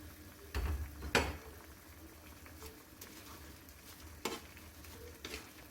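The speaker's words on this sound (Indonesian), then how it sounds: "Aduk rata." Vegetables stirred into boiling noodle broth for mie godog: a quiet bubbling simmer with a few sharp clinks and scrapes of the utensil against the pot, two louder strokes early and one later.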